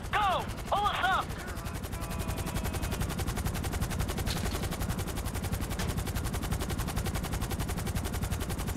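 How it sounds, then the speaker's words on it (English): Rapid automatic gunfire in Grand Theft Auto V, a dense steady rattle of shots running the whole time, with a few shouted voices over the opening bursts. "This motherfucker just shot him."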